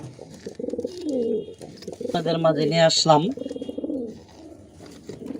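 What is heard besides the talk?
pigeons cooing, Teddy pigeon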